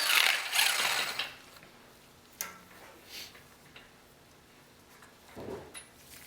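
Socket ratchet clicking in short bursts while a front axle nut is removed on a Ford F250 Super Duty, a few quiet ticking passes with pauses between.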